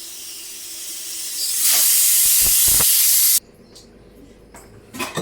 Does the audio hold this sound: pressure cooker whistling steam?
yes